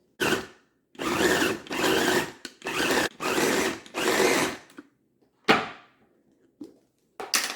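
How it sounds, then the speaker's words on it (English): A Ninja mini food processor grinding smoked sausage runs in several short, loud bursts of whirring motor noise separated by brief pauses, close up with no speech. "And I've got my little Ninja mini processor to get those sausages with the Ninja."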